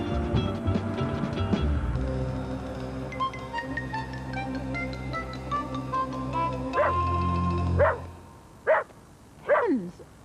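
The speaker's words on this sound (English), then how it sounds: "What's got into your dog, Brian?" A dog barks excitedly in three sharp, close yaps near the end, following a stretch of music, with little else around the barks.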